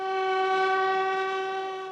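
A hospital train in India sounds its horn, a single sustained, steady tone that holds loud and clear for about two seconds before easing slightly at the end, with no speech.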